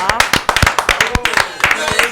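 Hand clapping at a French-language live show celebrating a third anniversary, a quick run of sharp claps with loud talk over it throughout.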